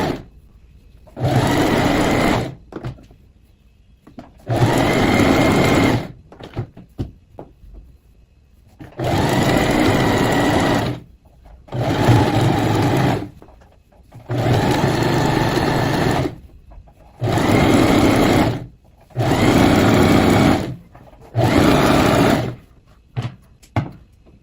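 A sewing machine stitches a sweatshirt hem in seven or eight loud, close bursts, each lasting one to two seconds and separated by short quiet pauses, with no talking over the stitching.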